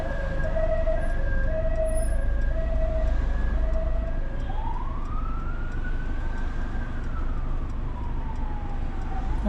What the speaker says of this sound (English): So we can hear an emergency vehicle.